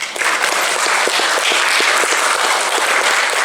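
A crowd at a family life celebration applauds, dense steady clapping filling the whole stretch at close range with no speech.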